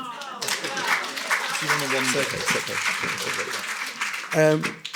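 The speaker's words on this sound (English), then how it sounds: "Can I have a little round of applause for me" Scattered clapping and applause from a crowd ripple beneath voices that keep talking over it, moderately loud and continuous.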